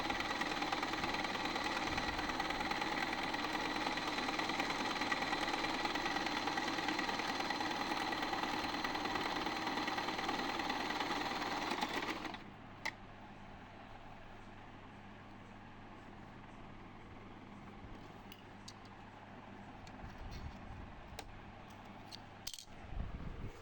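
An electronic Butterfly sewing machine stitches in a steady, fast whirring hum for about twelve seconds, then stops abruptly, leaving quiet room tone with a few small clicks and knocks near the end.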